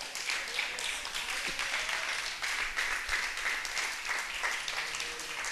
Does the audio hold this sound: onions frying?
no